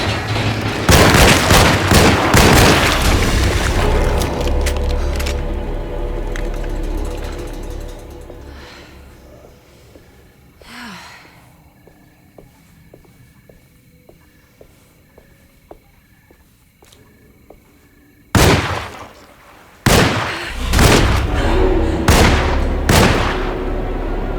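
Gunshots in a survival horror game: a heavy volley of loud, close shots at the start, then a quiet stretch with faint footsteps and a single distant report, before several sharp blasts near the end, no talking.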